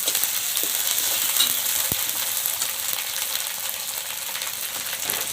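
Cumin paste frying and being stirred in hot fish oil for a Kerala-style rohu fish curry, a steady close sizzle with occasional scrapes of the stirring utensil, no talk.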